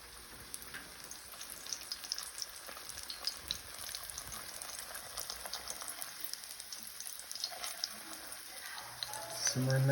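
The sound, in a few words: fry bread frying in hot oil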